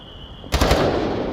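Gunfire in the VR shooter Onward, heard in a competitive World Cup match: a sudden short burst of several rapid shots after a moment of quiet, loud and close.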